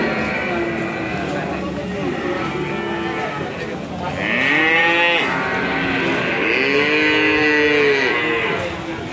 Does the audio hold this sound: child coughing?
no